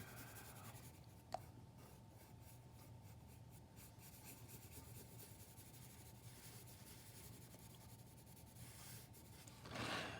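Colored pencil shading on paper makes a steady, faint, close scratching rub that runs on without a break, with no voices.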